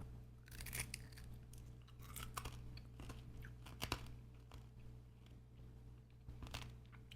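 Pressure-cooked chicken feet are chewed close up, soft bones and collagen giving repeated crisp crunches and gummy bites in an irregular rhythm over a steady low background hum.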